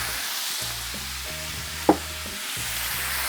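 Bacon cheeseburger smash patties fry on a griddle in bacon fat, giving a steady, low sizzle throughout with one brief sharp tap midway and no talk.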